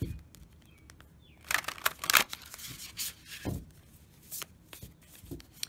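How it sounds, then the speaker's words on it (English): Quick papery riffling and flicking of cards, a couple of brief shuffle bursts with soft taps in between, close up and fairly quiet. "So let's do a quick shuffle and draw a card."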